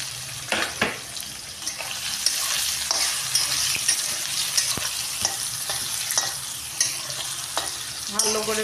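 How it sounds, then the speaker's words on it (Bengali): Soybean chunks fry in a home kitchen pan, a close, continuous sizzle broken by frequent stirring scrapes and knocks of the spoon against the pan, with no speech. "এবার দিয়ে দেবো আমি সোয়াবিনগুলোও আমি ভেজে নেব।"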